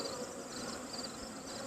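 Honey bees buzz around an open hive during an inspection, a continuous, even drone of many insects holding steady throughout, soft and close, with no talking.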